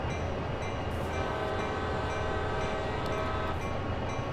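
A train horn sounds at a grade crossing in Train Sim World, steady and fairly faint over the rumble of the moving train, with a couple of longer horn blasts standing out from the engine noise.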